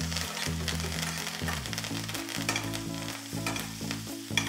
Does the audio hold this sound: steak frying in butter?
yes